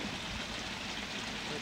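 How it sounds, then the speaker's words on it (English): A steady broad rush of water from a waterfall that flows in a gentle, non-rocky way, heard as a constant soft wash with no breaks, fairly faint and even throughout. "It's not the kind of waterfall over rocks that we're used to, which is very formal."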